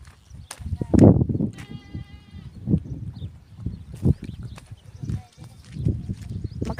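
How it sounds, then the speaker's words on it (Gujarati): Goats bleat in a village pen, with one loud, close bleat and several fainter calls scattered among shuffling and ambient farm noise, while someone talks over them. "એ બકરા વાડામાં પીર્યા છે બકરા"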